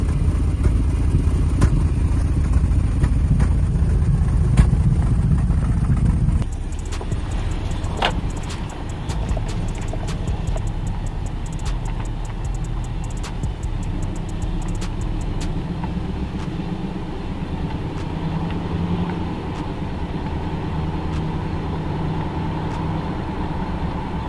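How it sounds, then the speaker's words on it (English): A Lexus LS430 with something rubbing and a suspected misfire runs and drives steadily at close range, with a continuous low rumble and scattered clicks and knocks over the road noise; no one talks. "Sounds like something is rubbing."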